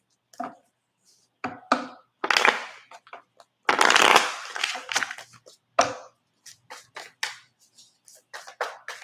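Tarot cards being shuffled in quick bursts of riffling and tapping, with short pauses between handfuls, close and fairly loud.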